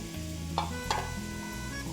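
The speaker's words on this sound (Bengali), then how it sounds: "আর এই যে আলু ভাজা হচ্ছে।" Steady crackling sizzle of potatoes frying in oil, close by, with a couple of brief clinks or stirring scrapes partway through.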